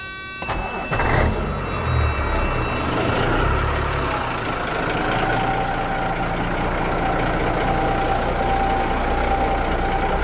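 A straight-piped 1988 Freightliner FLC truck with no mufflers or resonator cranks and fires up, then settles into a loud, deep, steady idle rumble close by, with voices in the background.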